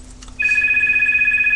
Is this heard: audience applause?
no